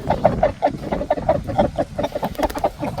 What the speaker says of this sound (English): Them roosters are two pretty roosters.